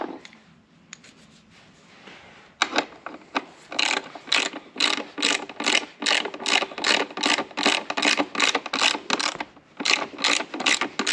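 Ratchet wrench tightening bolts on the plastic housing of a zero turn lawnmower, a steady run of rapid, close, loud clicking strokes in an even rhythm after a few quieter initial clicks, with no talk.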